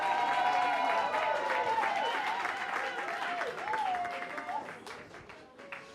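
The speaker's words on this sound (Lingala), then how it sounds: "Est-ce qu'on peut applaudir encore pour lui," An audience applauds at a 60th birthday celebration, and the clapping blends with music and crowd noise before gradually fading.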